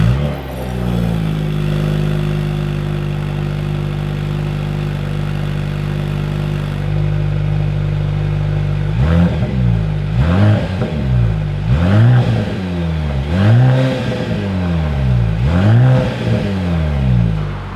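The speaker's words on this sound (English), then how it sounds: "here is that exhaust clip" A 2026 Mercedes-AMG GLC 43 idles with a steady burble and then revs repeatedly, with about five rising and falling exhaust blips in a regular rhythm, loud and close.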